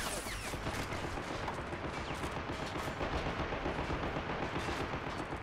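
Machine gun fire in the strategy game Men of War: Assault Squad 2, a dense continuous rattle of rapid shots mixed with other gunfire, steady and fairly distant throughout without pause.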